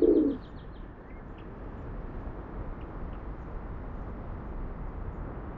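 A pigeon in Reverse: 1999 gives a short, near coo at the start, then a few faint chirps float over a quiet, steady ambient hum.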